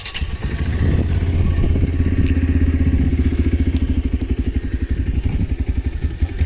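A motorcycle-like engine chugs steadily while driving slowly along a road near Madurai, a close, loud, even low rumble with rhythmic thumping that holds throughout.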